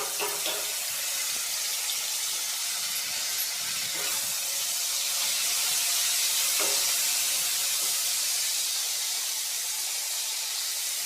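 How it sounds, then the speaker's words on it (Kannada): Ginger garlic paste and kasuri methi frying in hot oil for a tomato onion gravy, a continuous bright sizzling hiss at even loudness throughout, with a few faint soft clinks underneath. "ಶುಂಠಿ ಬೆಳ್ಳುಳ್ಳಿ ಪೇಸ್ಟು ಒಂದು ಅರ್ಧ ಸ್ಪೂನ್ ಆಗೋಷ್ಟು ಎಣ್ಣೆಗೆ ಹಾಕ್ತಾಯಿದ್ದೀನಿ"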